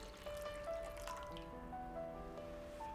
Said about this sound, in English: So pour the dashi into a pot,